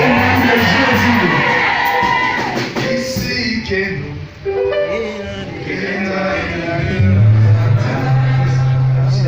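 A church congregation at an anniversary service cheers and acclaims loudly, a mix of whoops, shouts and crowd voices that swell and dip, then rise again near the end.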